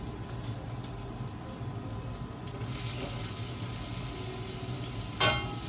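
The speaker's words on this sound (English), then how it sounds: "I'm going to grab my onion and my garlic and throw that in" Onion and garlic frying in bacon fat in a soup pot, a steady close sizzle with a brief louder clatter near the end.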